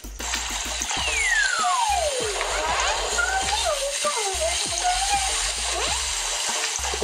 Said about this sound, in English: Let's put out some fire here.